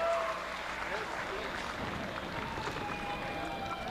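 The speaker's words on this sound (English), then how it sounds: "How about a round of applause?" An audience at a Tahitian dance festival award ceremony claps in a dense, steady wash of applause, with a voice talking over it throughout.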